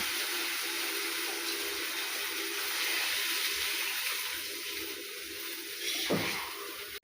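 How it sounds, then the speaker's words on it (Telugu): Water pours steadily into a cooking pan of softened onions, green chillies and curry leaves, a continuous close rush that runs for several seconds with no talking. "నీళ్ళు పోస్తా."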